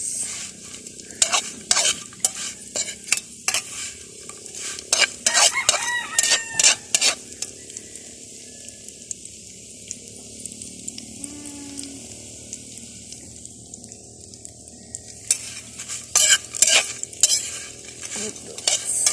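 Anchovies (dilis) and eggs fry over a wood fire, with a steady crackling sizzle, bursts of stirring scrapes in the pan, and a rooster crowing in the background.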